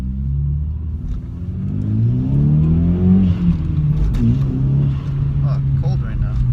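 A Hyundai Veloster Turbo pulls hard under acceleration, a loud, rising engine drone that climbs in pitch over several seconds before settling, with a voice speaking over it.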